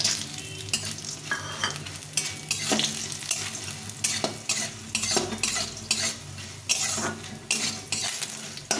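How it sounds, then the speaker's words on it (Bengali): Bori lentil dumplings frying in a pan sizzle steadily while a spatula repeatedly scrapes and clinks against the metal in an uneven rhythm, close and fairly loud. "এর মধ্যে এখন বড়িগুলো ভেজে নেব"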